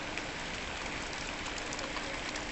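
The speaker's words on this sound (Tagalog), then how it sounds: "Maulan ang panahon." Steady rain falling outdoors, a dense even hiss that holds unbroken from start to finish with no voices.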